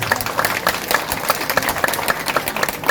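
A crowd claps steadily for a few seconds, dense and continuous applause with no voices standing out.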